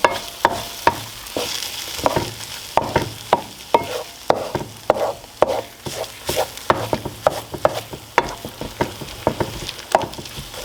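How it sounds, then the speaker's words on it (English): Eggs fry on high heat as a utensil mixes them, rhythmic scraping stirs recurring every half second or so over a constant close sizzle. "Cooking at a high so the eggs will cook pretty quick too. Just kind of mix it all in."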